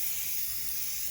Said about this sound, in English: So step one, plastic adhesion promoter. We're gonna spray a couple coats on this